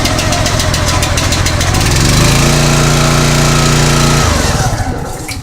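A wood splitter's small engine running after a pull-cord start, a loud, close, rough idle with rapid pulsing firing strokes that briefly rises in pitch and then settles down toward the end.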